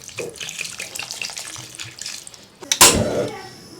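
Tap water runs into a cooking pot holding a large beef hoof, preceded by light handling clatter, then swells into a loud, close gushing stream.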